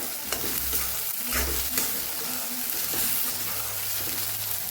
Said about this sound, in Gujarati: ડુંગળી આપણી પાકી જાય ને ત્યાં સુધી આપણે એને સાતડવાની છે